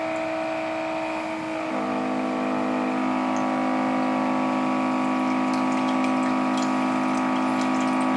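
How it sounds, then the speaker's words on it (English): Cleansonic ultrasonic cleaner pump flushing cleaning liquid through a printhead cleaning circuit and out of a tube: a steady, close, tonal mechanical hum whose pitch shifts slightly about two seconds in, then runs evenly to the end with no voices. "it starts flushing cleaning liquid through the circuit and out of the tube"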